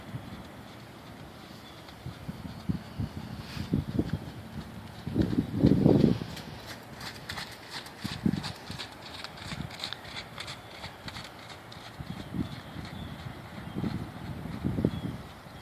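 A rescued Kentucky thoroughbred canters during a riding lesson, its hoofbeats thudding in soft, irregular low bursts with a heavier flurry midway, set against steady background noise and no talking.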